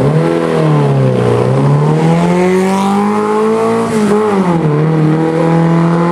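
A historic rally car climbs a hill during a historic hill climb at Salin Thésy, its engine loud and close, pitch rising and falling through acceleration and gear changes.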